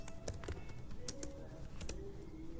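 Quick, irregular keystrokes on a computer keyboard, a handful of light clicks in a short burst over a low background hum, fairly close and faint.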